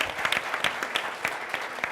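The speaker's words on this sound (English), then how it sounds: "let's please give our panel and Tom and Sybil a big round of applause." Audience at a civic program clapping for a panel, brief and somewhat distant, with distinct individual claps in a loose rhythm over a soft background patter.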